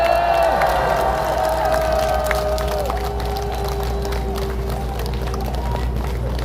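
A large outdoor rally crowd in Gwanghwamun Square claps and cheers in a continuous roar, with a low rumble and a voice carrying over the noise.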